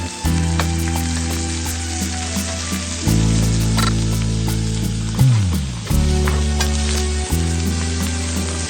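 A steak sears in a hot pan as the final step of a reverse sear, a loud continuous close sizzle with a few clinks and shifts as the meat is moved, running alone.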